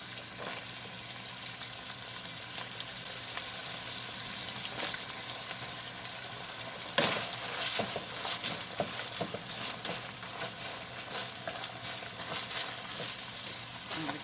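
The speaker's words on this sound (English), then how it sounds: "I just started browning that up, and I'm going to add my onion to it." Ground beef and onion fry in a pan with a continuous broadband sizzle, and a stir partway through makes it briefly louder.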